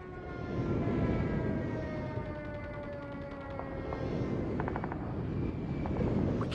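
Airstrike aircraft in the Call of Duty Mobile video game, a sustained droning engine roar with tonal whine and rhythmic fluttering, loud and continuous amid game background noise.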